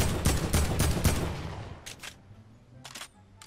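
Gunfire in a multiplayer shooter game, with rapid bursts of shots packed into the first second or so, then a few isolated single shots spaced apart afterward.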